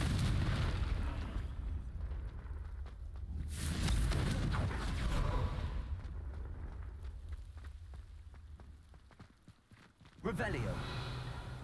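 Confringo spell blasts boom from the video game Hogwarts Legacy, with bursts near the middle and a sharp one toward the end, while a person talks over the game sounds.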